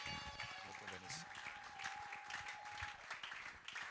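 Church congregation applauding and cheering, a dense continuous wash of clapping with a sustained tone and some voices mixed in, fairly distant and moderate in level.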